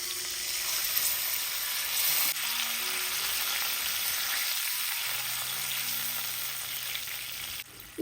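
An asafoetida mixture stirred in a hot pan, giving a steady, moderate frying sizzle with faint scraping and a brief clatter at the very end, and no voices.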